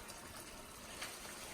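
Water pours steadily into a pan of home-style cornbread dressing, a soft continuous splashing gush held close and fairly quiet, with no talking over it.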